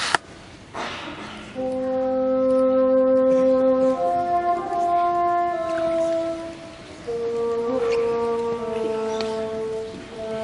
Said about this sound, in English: all of a sudden the vibrations of that reed create sound waves that sound like this